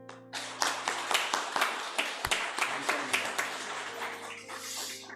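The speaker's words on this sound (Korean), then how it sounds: "감사의 박수, 또 위로의 박수를 드리겠습니다" Congregation applause at a church ordination thanksgiving service: a steady run of hand claps fills the room for about five seconds, then thins out toward the end, with organ or keyboard tones sustained underneath.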